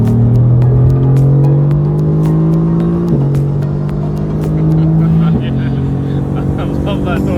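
A 700HP Mercedes-AMG GT R accelerates hard on the autobahn, its engine note climbing loud and close, then dropping sharply at two gear shifts before rising again.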